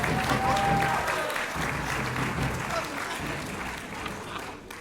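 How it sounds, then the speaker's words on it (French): A show audience applauds, a dense sustained roar of many hands that fades slightly toward the end, with a voice faintly mixed in. "Un tonnerre d'applaudissements"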